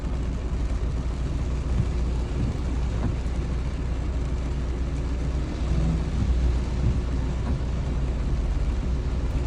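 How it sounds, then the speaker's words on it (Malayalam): Afternoon rain falls in a steady, dense downpour in Kottappuram, wetting the roads, with a continuous broadband hiss and low rumble that stays at an even loudness throughout, without voices. "നമുക്ക് നല്ല മഴ കാലാവസ്ഥക്ക് അനുയോജ്യമായിക്കൊണ്ട് തന്നെ നമുക്ക് നല്ല മഴ തന്നിരിക്കുകയാണ്"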